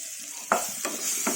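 Raw mango pieces fry in oil with a steady close sizzle, broken by three scraping stirs of a spoon through the pan.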